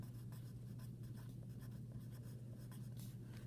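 Hand-writing an example equation, with soft, close scratching and tapping strokes of pen or pencil on paper going on continuously over a low steady hum, with no talking.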